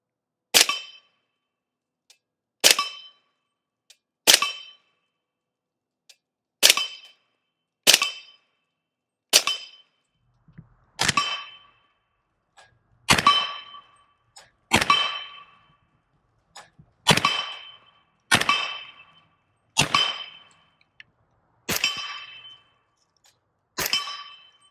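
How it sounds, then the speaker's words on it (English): A .300 Blackout rifle fitted with an AnechoX 30L suppressor fires about fifteen sharp, evenly spaced suppressed shots, each a loud crack with a short ringing tail and quiet gaps between. "Let's get back to shooting."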